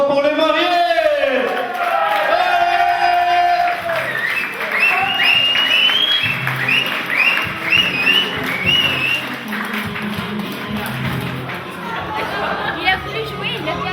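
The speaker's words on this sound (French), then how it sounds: "Je vous demanderai un tonnerre d'applaudissements pour les mariés." Wedding guests clap and cheer for the newlyweds, with lively chatter, whoops and voices mixed into the sustained applause throughout.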